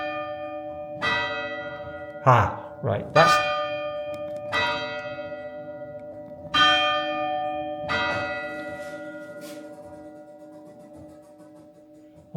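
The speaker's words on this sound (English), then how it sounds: "that is the clock, not the bell. The clock rings every hour apparently" An old clock chimes the hour in a thirteenth-century church, sounding about five loud, ringing strikes spaced a second or two apart, each one decaying slowly. A person speaks briefly between the early strikes.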